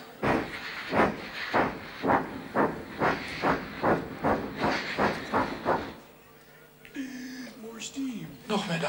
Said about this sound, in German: More steam. Noch mehr Dampf.